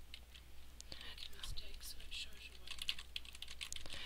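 Typing on a computer keyboard during a typing tutor lesson, a quiet stream of irregular key clicks close to the microphone with a faint low hum beneath.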